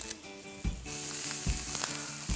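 Mushrooms and onions sizzling in a hot pan as they are stirred, a close steady crackling fry with occasional low knocks of the spoon against the pan.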